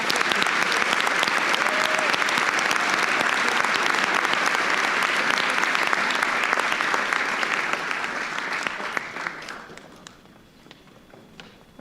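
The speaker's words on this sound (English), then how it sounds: "Right, let's give a round of applause." An audience claps through a school valedictory ceremony, loud sustained applause from a crowd that fades out near the end.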